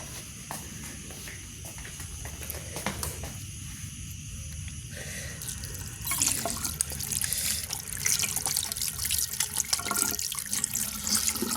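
Water runs from a tap over a slimy tree frog, a steady broadband splashing that grows louder and denser halfway through, with no talk.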